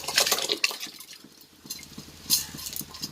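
Sago being stirred into milk payasam with semiya in a pot, giving soft scraping and light clinks of a spoon against metal, with a few louder bursts of stirring and quieter pauses between.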